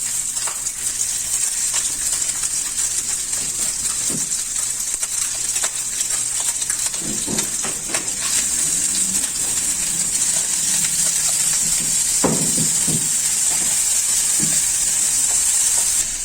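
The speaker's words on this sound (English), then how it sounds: "Fry the ham and corn with butter." Ham and corn fry in butter over a camp stove, giving a steady bright sizzle that runs throughout, with occasional clinks and stirring scrapes of a utensil in the pan.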